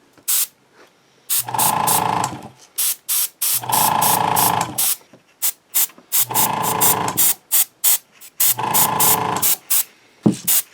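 Repeated bursts of aerosol matte sealer sprayed onto a starship scale model, four longer sprays with short hissing puffs between them, close and loud, separated by brief silences.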